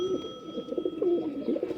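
Teddy breed pigeons of the Miyan Azad bloodline coo softly in low, rolling phrases, several close overlapping calls repeating steadily over a faint constant hum.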